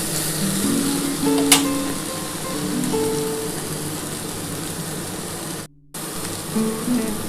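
Fried okra and potatoes with poppy seed sizzling in a pan as a little water goes in, a loud, close hiss and crackle with stirring clinks and a short dropout near the end.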